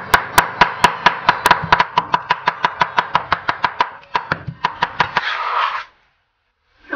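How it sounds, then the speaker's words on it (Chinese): A cleaver chops pork into mince on a cutting board: a quick, even run of about twenty loud, close knocks, followed by a brief scraping sound and then silence. "最后剁成肉末。"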